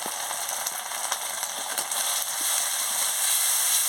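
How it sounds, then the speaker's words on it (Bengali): Spices with turmeric and chili powder frying in oil in a pan for a fish curry, a steady bright sizzle with crackling pops, close and continuous, no speech. "মশলাটাকে ভালো করে কষিয়ে নিচ্ছি"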